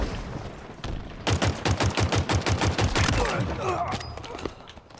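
Pulse carbine in Halo Infinite firing a rapid, evenly spaced burst of about a dozen sharp shots, close and loud, then ringing energy tails fading out.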